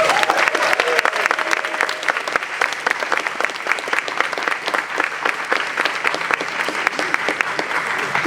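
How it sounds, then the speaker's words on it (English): An audience at a move-out ceremony claps steadily and loudly throughout, a sustained dense patter of many hands with no pause. "Give them another big round of applause."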